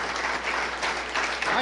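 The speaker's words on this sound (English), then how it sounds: "I want to give you another round of applause" Sustained applause from an audience at a city council meeting, a steady dense wash of clapping that holds for under two seconds without letting up.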